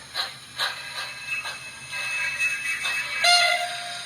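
Pennsy A5 model train locomotive doing an auto brake: mechanical clicks and a ratcheting hiss build over a few seconds, ending in a louder, brighter squeal-like release near the end, fairly close and alone.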